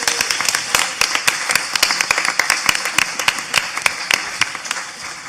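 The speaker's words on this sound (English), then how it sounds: "I think we should all give Jerry one more round of applause" Sparse clapping at a symposium plenary roundtable, sharp individual claps from a small audience with uneven rhythm, close and fairly loud.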